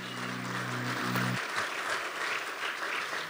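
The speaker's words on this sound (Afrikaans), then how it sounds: "Kom ons klap ons hande." A church congregation claps hands together in steady, dense applause that fills the room, with a sustained musical tone ringing underneath at the start before fading out.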